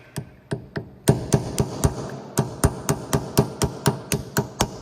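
A hammer strikes the plastic ABS wheel speed sensor on a Honda Accord in a run of sharp, close, dull knocks, a few spaced blows and then a quicker steady series of about a dozen.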